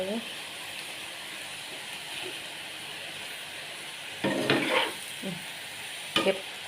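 Pork stir-fried with Chinese cabbage in a worn nonstick pan at home, a quiet sizzle broken by a few short bursts of scraping and stirring, with someone talking softly over it.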